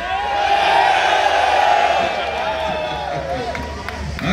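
Crowd at a metal concert at Luppolo In Rock in Italy, a loud sustained roar of cheering and whooping that swells early and gradually fades over a few seconds.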